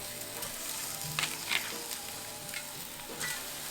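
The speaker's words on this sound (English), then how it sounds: "Oh, I love the sizzle." Chicken breasts sizzle steadily in a hot air fryer with a constant crackling hiss, broken by a few brighter pops and spits.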